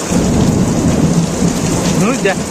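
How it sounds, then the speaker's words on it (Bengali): Steady heavy rain with small hail drums loudly, a low rumble of thunder underneath; no distinct hail impacts stand out, and no one speaks. "প্রচুর পরিমাণে বৃষ্টি হচ্ছে আর শিলও পড়ছে"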